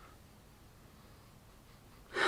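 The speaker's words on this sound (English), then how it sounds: "First impression, first sniff." A person takes one short, sharp sniff of Jacomo For Men Intense perfume. The close nasal inhale bursts out at the very end after near silence.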